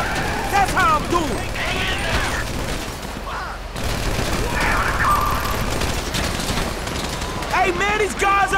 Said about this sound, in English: You hear that gunfire?